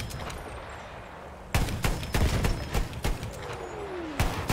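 Bombs and gunfire in the Battlefield 1 Heligoland Bight map: sharp explosive blasts and gunshots burst out in an irregular, loud volley over a low rumbling background, with a descending whistle near the end.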